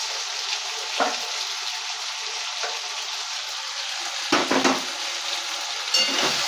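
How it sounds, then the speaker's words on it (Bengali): Okra (bhendi) frying in a pan with a continuous hiss of sizzling oil, broken by a few sharp scraping stirs and clatters of a utensil against the pan, close up and without talk. "ভেন্ডিগুলোকে আর একবার নাড়াচাড়া করে দেবো আর একটু"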